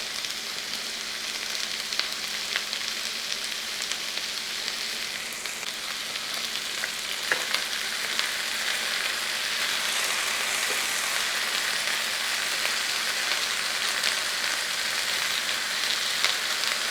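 Masala curry with capsicum and tomato sizzling steadily in a pan while being stirred, a continuous close hiss with occasional scraping clicks and no talk.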